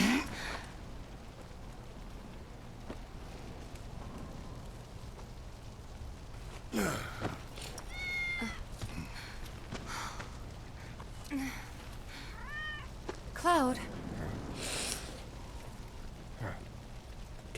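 Cat in Final Fantasy VII Remake giving several short, rising and falling meows spread over the clip, fairly quiet against a soft background hiss, with a brief spoken word early on.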